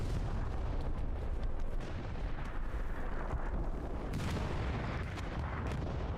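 Dense, continuous battlefield gunfire and booming from the Hell Let Loose video game, with machine gun fire from a window position blended into a loud, unbroken wash of shots and distant explosions.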